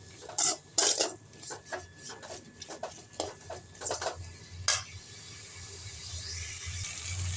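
Guava chutney ingredients are sautéed and stirred in a pan, with irregular metallic scrapes and clinks of a spoon against the pan over a faint, steady sizzle.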